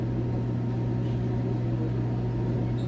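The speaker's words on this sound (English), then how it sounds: "we're like following the instructions to microwave it" A microwave oven runs while heating vegan sausage pizza bites, giving a steady, low electrical hum with a constant drone and faint fan noise, unbroken and alone at moderate level.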